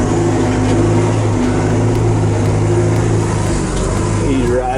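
A Dodge Ram 3500 Cummins diesel pickup in first gear pulling a trailer loaded with a John Deere backhoe, a loud, close, steady low engine rumble that holds throughout.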